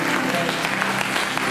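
An audience at a Sunday church gathering applauds and cheers, a dense wash of clapping and crowd noise over a short stretch, with a voice speaking over it.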